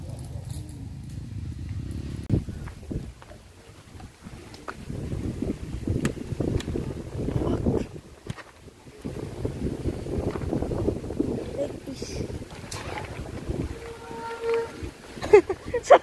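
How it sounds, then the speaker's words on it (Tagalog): Strong wind buffets the microphone at a high, remote overlook away from the city, a rough, gusting rumble rising and falling throughout while a person talks over it. "Sobrang hangin."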